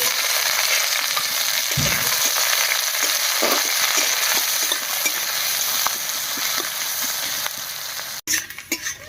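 Chopped onion, black cumin and slit green chilli fry in hot oil with a loud, continuous sizzle, scraped by a few stirring strokes before the hiss cuts out near the end.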